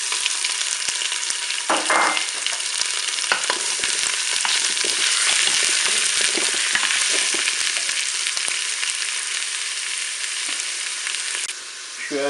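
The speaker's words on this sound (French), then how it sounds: "je vais faire revenir mon rôti. Je vais le faire dorer sur toutes ses faces" Steady loud sizzle and crackle of a pork roast and onions browning in the bowl of a Cookeo multicooker, continuous frying hiss with occasional stirring scrapes and no talk.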